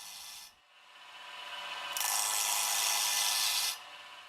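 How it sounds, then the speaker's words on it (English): A wood blank spinning on a lathe is rounded with an Easy Rougher carbide tool, giving a loud, sustained, close hissing scrape that briefly drops off and then comes back stronger for a long even pass. "I'm going to round out our piece using the Easy Rougher"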